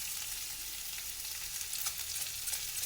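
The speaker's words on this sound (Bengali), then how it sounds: "দিলাম লঙ্কা কুচি, এখানে সব রকম মশলা দিয়ে ভালো করে মিশিয়ে নিচ্ছি" Chopped chilli and mixed spices are stirred in a hot frying pan, making a dense, continuous sizzle with faint scraping, close and steady throughout.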